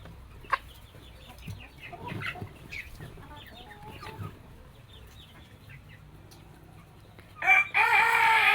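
Chickens on a farm cluck softly and scatter about, then a rooster crows loudly and close near the end, over a steady low background.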